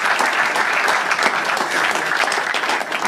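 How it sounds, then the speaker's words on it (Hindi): Loud audience applause on a comedy talent show, many hands clapping in a dense, steady burst that carries on without a break and has no speech over it. "तो एक बार जोरदार ताली अंबर शर्मा के लिए यार।"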